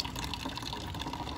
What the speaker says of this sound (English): We're just waiting for beer to flow right now, and once we see beer, we'll let another half pint or so go through